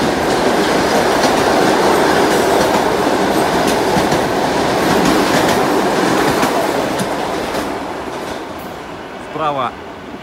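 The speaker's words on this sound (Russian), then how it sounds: "Поезд Рекс-экспресс пролетает эту станцию." A REX express train roars through Vnukovo station without stopping, loud rushing noise with rhythmic wheel clatter, fading slightly toward the end.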